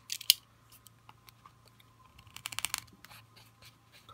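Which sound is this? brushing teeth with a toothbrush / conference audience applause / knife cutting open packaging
knife cutting open packaging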